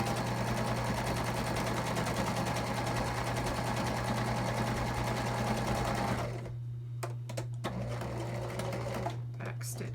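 A sewing machine stitches around a quilted placemat with cotton batting, a loud, close, rapid mechanical whir for about six seconds before stopping, leaving a steady low hum and a few sharp clicks.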